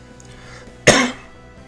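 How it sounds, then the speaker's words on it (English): A single sharp cough from someone recovering from viral bronchitis, loud and close, standing alone against a faint background hum. "I've been coughing for like 2 weeks"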